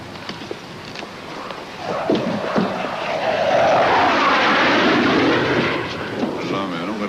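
A propeller airplane approaches and passes overhead, its engine drone swelling loud in the middle and fading away, with some faint background noise.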